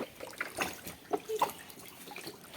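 Water splashes and drips in short, scattered bursts as a child bathes at home, fairly faint and close, with no talking.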